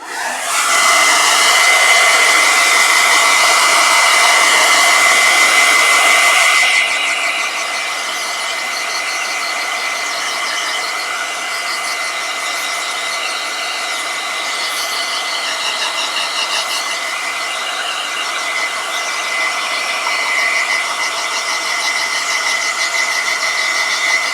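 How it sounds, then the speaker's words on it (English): A hair dryer blasts loud and steady at close range to dry paint on a miniature, easing to a slightly lower, softer whir after a few seconds and running continuously with no talking. "now I'm going to hit it with the hairdryer so I can just dry it up."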